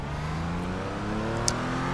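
A Porsche Cayman GT in iRacing at Road America runs flat out. The engine holds a steady, loud, droning pull with a layered harmonic buzz. A brief sharp click sounds partway through.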